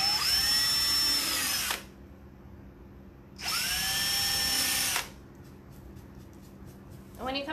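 A power drill bores holes into a wooden door hanger in two loud, close bursts of high whining spin, each lasting about two seconds, separated by a quiet pause with faint handling noise.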